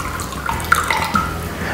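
Water poured into a sauce mixture of brown sugar, soy sauce, vinegar, oyster sauce and sesame oil, a short close splashing trickle heard alone.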